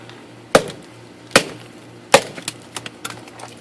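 A TOPS SXB knife chops into juniper wood with quick wrist flicks: three sharp, close impacts about a second apart, followed by a scatter of lighter ticks and taps as chips fly, with no talking.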